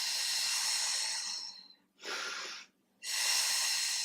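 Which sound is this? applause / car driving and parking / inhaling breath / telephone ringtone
inhaling breath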